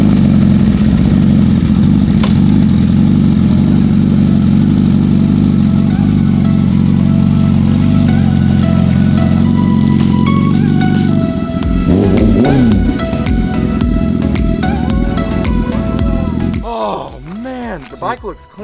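Motorcycle fitted with an SC Project exhaust runs loudly and steadily throughout, with a rising rev near the end as the engine note climbs and fades; people talk over it.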